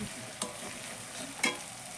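Chicken frying in oil in a home kitchen as chili powder goes in, a steady soft sizzle with two brief louder stirring scrapes, close and without talk.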